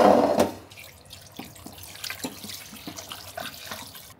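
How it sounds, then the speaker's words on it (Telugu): Water is poured into a cooking pot to boil mutton, a splashy gush at first that settles into lighter trickles and drips at close range, with no voices. "నీళ్ళు వేసేద్దామా?"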